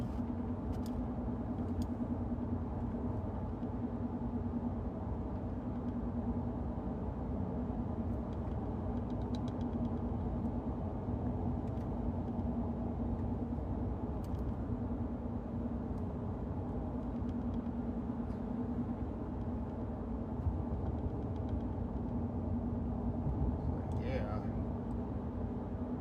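Car rumbling along a rough road on the Great River Road in Louisiana, heard from inside as a steady low engine and tire drone with occasional faint knocks, under intermittent talking.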